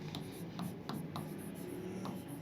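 Chalk or marker writing on a board during a chemistry lecture, a few short faint scratching strokes at a quiet, uneven pace over a low room hum.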